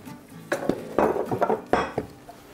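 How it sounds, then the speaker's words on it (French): A fork beats an egg in a bowl, clinking and tapping irregularly against the sides in short bursts, close by and with no voices. "Je bats l'œuf."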